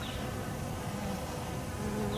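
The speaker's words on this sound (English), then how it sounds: "Now there is a bee over there now on that pollen, so they are taking that pollen in too" Honey bees buzzing at a hive entrance in New England during March pollen gathering, a steady close droning hum from many insects with no pause.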